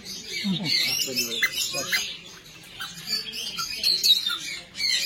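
Birds squawking and calling in a bird enclosure on a farm visit, a dense, busy chatter of shrill calls throughout with people talking underneath.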